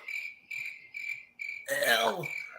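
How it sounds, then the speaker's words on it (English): Crickets chirp in steady, evenly spaced bursts of bright pulsing trills, loud and close, briefly overrun by a louder swooping sound near the end as the chirping carries on alone without talk. "I feel like it's time for crickets."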